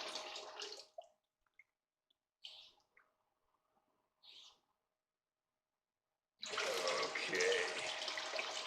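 Water runs and splashes into the weirs of a gold screening sluice, heard in bursts at the start and end, with quiet gaps and a few soft knocks between; a voice speaks briefly.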